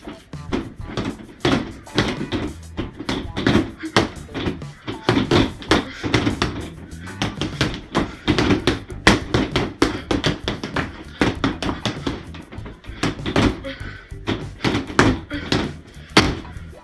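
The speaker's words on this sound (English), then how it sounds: "So I will be punching my punching bag." Rapid punches pound a Wave Master freestanding punching bag: a long run of loud, close thuds in an uneven rhythm, with some talk between hits.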